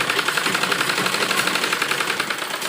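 A sewing machine runs fast and steady, stitching a double seam on a net blouse sleeve with a rapid, even mechanical rattle heard up close.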